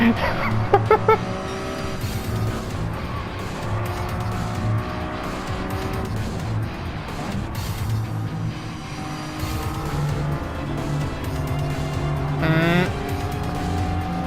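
A Lamborghini Countach engine drones steadily while racing in a video game, with other cars, brief tire squeals and skids, and a commentator's voice over it.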